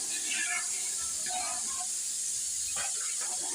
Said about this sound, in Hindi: आधा किलो दूध मैंने डाल दिया